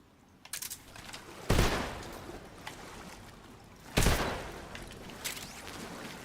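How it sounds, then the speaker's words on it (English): AK rifle fire in a video game sounds as two loud, sharp gunshot blasts a few seconds apart, each ringing out over a quiet rustling background, with a few lighter clicks and taps between them. "I don't want to waste AK shots on a fish though."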